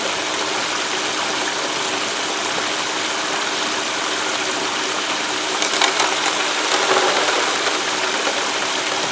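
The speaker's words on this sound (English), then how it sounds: "Washes down real well, so we have dual sprays here" Water from dual sprays rushes steadily down a prospecting sluice, washing material through as a continuous broadband hiss, with a few brief louder splashes and rattles near the end; no voices.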